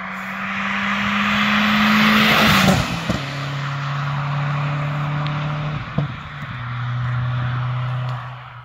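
A Volkswagen Golf 4 GTI 1.8T with a Milltek stage 2 exhaust drives past or accelerates, its steady, droning engine note stepping down in pitch at gear changes and ending with a brief rasp, loud and close throughout.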